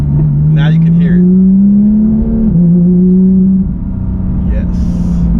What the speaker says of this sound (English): As you can see, the car downshifted. Now you can hear it.